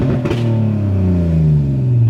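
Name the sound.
car exhaust revving, sounds like Mustang 4.6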